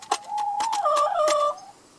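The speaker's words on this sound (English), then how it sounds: "And here come the geese." Poultry calling close by: a few short honks and a drawn-out, wavering call lasting over a second, with no talking.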